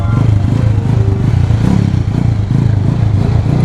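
A motorcycle engine runs steadily and loud throughout, with a low rumbling drone and some clattering, and faint talk mixed in beneath it.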